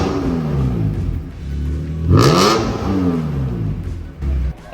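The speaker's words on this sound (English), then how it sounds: "here's a before clip of what it sounds like before we take off the exhaust." A BMW E46 with an aftermarket exhaust revs up close, idling, rising sharply to a loud rev, then dropping back to a rough idle, with a smaller blip near the end.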